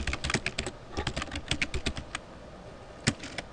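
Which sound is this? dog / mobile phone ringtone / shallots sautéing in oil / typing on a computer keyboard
typing on a computer keyboard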